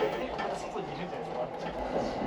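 A late-night New Year's Eve train departs Yokohama Station, giving a steady low rumble of rolling wheels and car noise heard from on board, even and moderately quiet throughout.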